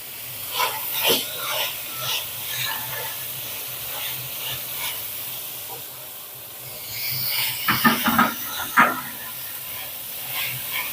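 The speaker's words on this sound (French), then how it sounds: "dans le même récipient et dans le même beurre avec les sucres, on va faire revenir les oignons" Onions sautéing in butter and sugar in the same pan sputter with a soft continuous sizzle, broken by scattered clicks and scraping stirs that bunch up toward the end.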